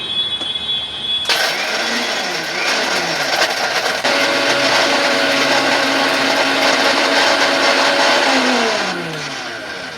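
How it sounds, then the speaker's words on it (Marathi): A mixer grinder blending mango cheesecake mixture, its motor starting abruptly with a loud whir that rises and shifts pitch as the load changes, running steadily before easing off near the end; no talking. "पहिलं हे मिक्सरला लावूया आपण."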